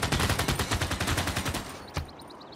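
Units firing in Civilization VI: a rapid, evenly spaced burst of loud automatic gunfire rattling for about two seconds, followed by a single sharp crack and fading echoes.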